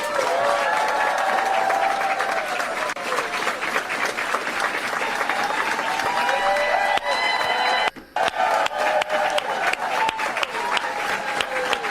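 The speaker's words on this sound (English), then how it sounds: "Do you hear this clapping?" A large crowd claps and applauds steadily and loudly throughout, a dense wash of hand claps with brief dips in intensity and a momentary pause near the end.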